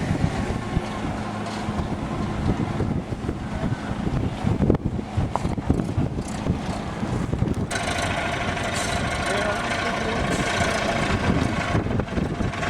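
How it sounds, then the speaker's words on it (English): Gusty wind buffets the microphone outdoors at Kalumburu Mission in Western Australia while pallets are loaded, with a steady engine-like rumble underneath; the roar runs continuously and thickens into a harsher hiss in the second half. "The wind's starting to pick up."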